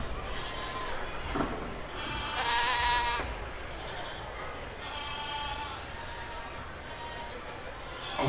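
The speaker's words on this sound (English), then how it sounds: "we have Gunnar Connor with an 86-pound goat" A goat at a 4-H livestock auction sale, bleating several times over a busy crowd and a continuous auctioneer's voice.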